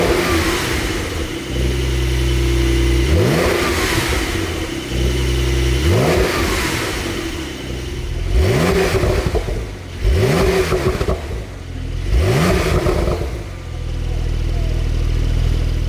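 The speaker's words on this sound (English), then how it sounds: "We're going to give it a start up. Let's see what the Rocket 900R sounds like." A Brabus Rocket 900 R, built on a Porsche 911 Turbo, fires up and settles into a steady idle, then gives a series of loud, sharp revs that rise and fall back to idle. No other sound competes.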